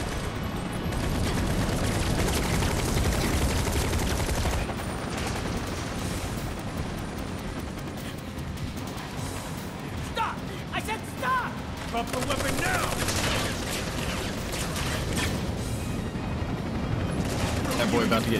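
Barret's gun fires in rapid bursts during a battle in Final Fantasy VII Remake, a dense, sustained rattle of gunfire mixed with game effects and impacts that runs almost continuously, with a voice talking over parts of it.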